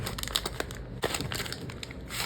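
Shrink wrap torn and crinkled off a boxed Marvel Crisis Protocol miniature kit, with close, irregular crackling and crushing rustles and a sharper tear near the middle.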